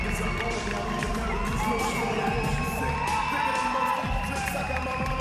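Spectators cheer, shout and whoop at a Superior FC lightweight title fight in Düsseldorf, a loud continuous arena roar with an announcer's voice over it.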